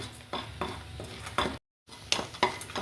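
Dried red chillies roast in a pan on a gas stove, a soft dry sizzle with repeated scraping stirs of a ladle against the metal, quiet and close, briefly cut to silence midway.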